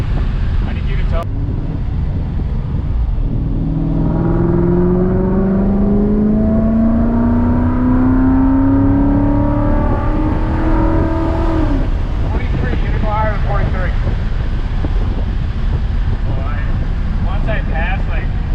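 A 2017 Mustang GT with a Paxton supercharger pulls hard from inside the car, its engine note climbing steadily under acceleration before easing off, with people talking over the loud cabin noise.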